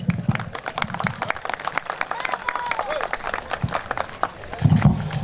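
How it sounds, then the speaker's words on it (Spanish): Guests at Kevin's birthday gathering clap steadily, a moderate round of applause with a few louder bursts near the end, while a voice continues speaking over it. "Fuerte los aplausos"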